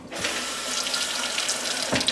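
Water runs steadily from a tap into a glass jar to rinse mung beans, a continuous close splashing rush with a slight rising gurgle toward the end and no talking.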